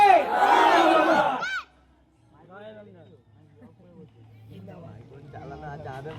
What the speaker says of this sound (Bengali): উচ্চ আওয়াজে তাকবীর দেন, নারী তাকবীর, নারী তাকবীর।